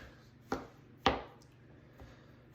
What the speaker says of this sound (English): I'm gonna sift through it, make sure for no shells, and give it a coarse chopping.